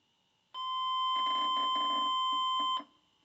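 An electrical tester on the ignition points of a 1982 air-cooled VW Vanagon Westfalia gives one sustained, high steady beep lasting about two seconds, with faint clicking underneath, then cuts off.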